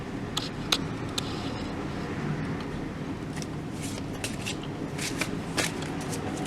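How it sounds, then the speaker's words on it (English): Tarot cards riffle and flick in short bursts, a handful of crisp shuffles of the deck close up over a low, steady background hum. "So I'm going to shuffle this now."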